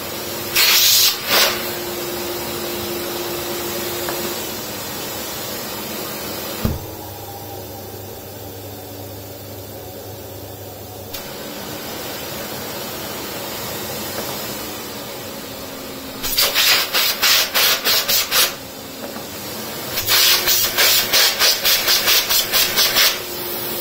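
A Lux Royal D790 vacuum cleaner runs on maximum power with a loud, steady roaring whoosh, broken by bursts of rhythmic rubbing or scraping as the nozzle is pushed back and forth over a surface.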